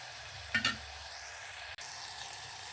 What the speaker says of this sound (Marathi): एक दोन मिनटं आपण ह्याला टोमॅटो मऊ होऊपर्यंत भाजून घेऊया